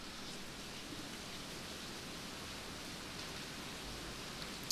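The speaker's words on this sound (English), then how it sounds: "The rain is really picking up again." Steady rain falls without a break, a dense even hiss that stays at a constant moderate level, with no voices and only a tiny click right at the end.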